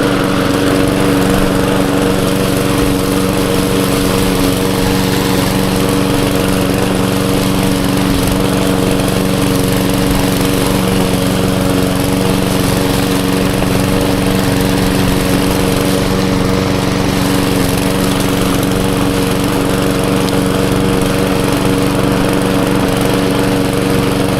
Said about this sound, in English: See if we are able to mow that.